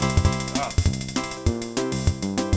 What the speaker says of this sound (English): This is the Yamaha play card organ.